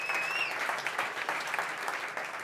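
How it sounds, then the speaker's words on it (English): Audience applause at the South Summit 2018 startup competition, steady crowd clapping throughout at moderate level, with a brief whistle-like tone at the start. "Big applause for you guys for being here."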